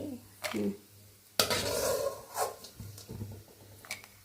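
Dal being stirred and dry-roasted in a pan for suji laddu, a spoon scraping and clinking against metal in irregular strokes, close, with a louder burst of rustling partway through and no speech.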